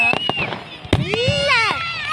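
Firecrackers of different shapes, all packed with the same powder, burst in quick sharp cracks with bright whistling streaks. Children and adults talk and call out close by.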